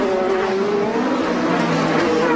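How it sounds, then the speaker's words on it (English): An IndyCar race car on the Baltimore street circuit locks its front tires under braking, a loud, steady engine drone with a falling pitch as it slows, continuous and close. "Marco's really locking up those front tires now under braking"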